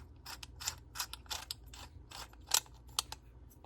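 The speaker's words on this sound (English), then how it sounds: "We're just threading the bit into the lamp there." A metal part being threaded into a wall sconce lamp during rewiring gives quick, irregular ratcheting clicks and scrapes, close and crisp with no talking.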